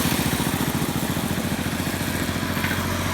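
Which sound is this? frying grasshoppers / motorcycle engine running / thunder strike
motorcycle engine running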